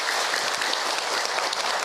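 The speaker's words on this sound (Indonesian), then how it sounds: "Tepuk tangan buat ibu yang bertanya." A brief, even burst of audience clapping for a woman who asked a question during an Islamic religious talk, heard alone without speech.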